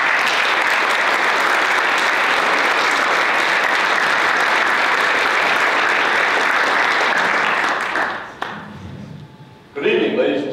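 Sustained, dense audience applause welcoming lecturer Steve Young at a democracy symposium, loud and steady for about eight seconds before fading, with a brief resurgence of clapping near the end.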